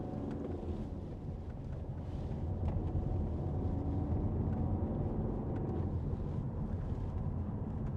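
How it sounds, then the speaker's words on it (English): A deep, steady engine rumble from a 2013 Volvo V70 2.4 D5 diesel drones continuously, low and close, with a bit of wind-like noise over it. "Big truck engine."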